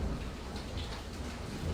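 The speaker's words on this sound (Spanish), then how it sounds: "si escuchan la lluvia, bueno, pues está genial" Heavy rain falls steadily in a thunderstorm, a dense close roar of drops with low rumbling beneath, continuous and loud throughout with no talking.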